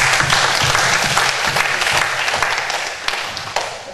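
A church congregation applauds together during a Sunday worship service, a dense, steady round of clapping that fills the room and gradually tapers off toward the end.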